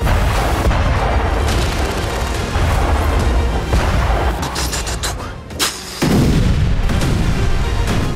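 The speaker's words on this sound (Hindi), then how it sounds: "गरजती हुई आगे बढ़ती मिसाइलों का शोर और विस्फोट की आवाज" A continuous roar of Russian missile launches and explosions over Ukrainian cities, heavy booms and rumbling blasts, loud and dense, with a brief dip before another powerful surge; no voices.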